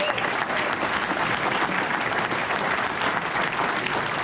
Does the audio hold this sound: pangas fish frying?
no